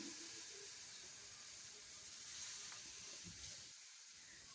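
Half a litre of milk pours into a pan of flour for homemade pizza sauce, a steady faint hiss of liquid running continuously in a quiet kitchen with no talking.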